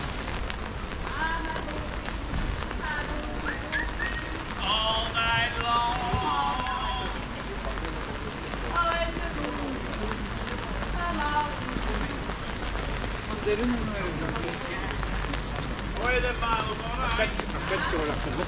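Steady rain patters on a town street in Doncaster, a continuous broadband hiss that runs throughout while people talk and chatter nearby.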